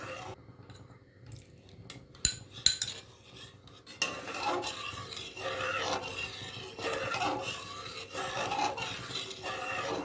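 A spoon stirs orange juice in a pot as cornflour is added for orange jam: quiet scraping and clinking at first, then fuller continuous stirring and bubbling after a few seconds.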